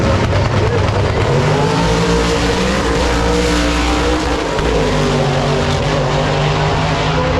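A drag racing car launches hard down the strip at Drag Week 2025, a car known for pulling wheel stands, producing a loud, sustained, close engine roar that fills the whole stretch without a break.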